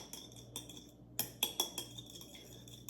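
Metal utensil clinking and scraping against a bowl while mixing salt and pepper into sesame chicken, several sharp taps spread unevenly over a few seconds, close and fairly quiet with a faint hum behind.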